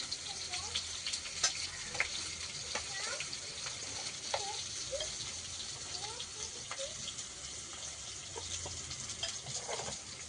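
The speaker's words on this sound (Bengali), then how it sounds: "মাংসের আলুটা এদিকে ভাজা হতে হতে আমি মাংস মশলাটা মাখিয়ে নেব" Potato pieces seasoned with salt and turmeric frying in oil, a steady close sizzle with scattered pops and crackles throughout, at a moderate level with no talk over it.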